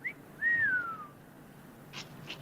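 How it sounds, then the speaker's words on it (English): A man whistles a single sliding note that glides down in pitch, clear and fairly close, followed by a couple of faint brief sounds. "That guy whistled."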